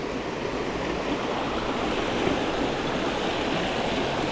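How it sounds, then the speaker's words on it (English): A small waterfall on a creek in rugged Ohio terrain pours steadily, making a close, loud, continuous rush of water with no voices. "Let's go over here to this waterfall."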